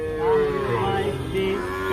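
A heifer at a cattle market in Tangail, Bangladesh, moos in a long, low drawn-out call that wavers and carries on for about two seconds, fairly close and loud.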